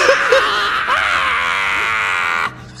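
A person in a cringe video lets out a long, sustained high-pitched scream, loud and steady for over two seconds before stopping abruptly.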